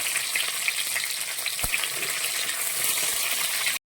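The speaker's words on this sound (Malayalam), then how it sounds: "ഉള്ളിയൊക്കെ ഒന്നൊരു ഗോൾഡൻ കളർ ആവുന്ന വരെ നമ്മൾ ഈ വറ നന്നായിട്ട് മൂപ്പിച്ചെടുക്കണം കറിവേപ്പില ഇട്ട് കൊടുക്കാം" Onions and curry leaves frying in hot oil for rasam give a steady, close crackling sizzle that keeps up for several seconds, with one sharp click midway, then stops abruptly.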